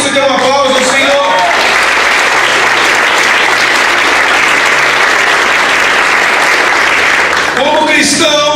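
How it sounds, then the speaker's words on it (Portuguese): A church congregation breaks into loud, sustained applause, a dense wash of clapping filling the room for several seconds, with a voice speaking just before it and again as it fades. "Se você quer isso, dê um aplauso ao Senhor."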